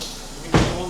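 A car door, on a BMW E90, slams shut once partway through, a single close thump breaking a steady low background hum.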